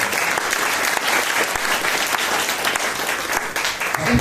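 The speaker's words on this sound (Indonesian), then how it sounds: "Tepuk tangan buat semua Bapak Ibu." Loud, sustained applause from a sales agents' gathering, dense clapping that holds steady for several seconds without a break.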